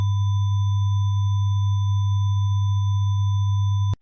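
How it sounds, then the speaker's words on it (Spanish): A steady low pure sine tone sounds alone, constant and loud, joined by fainter higher pure tones at fixed pitches, all held without change until an abrupt stop. "percibimos que estos 4 tonos puros están en plano realmente"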